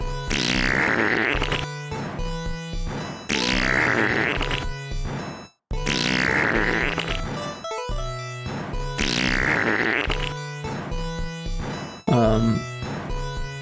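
Loud retro chiptune fart effects from a GB Studio game repeat in a steady cycle, each a long noisy sputter followed by choppy buzzy pulses, with a bubbly tail near the end and no voices.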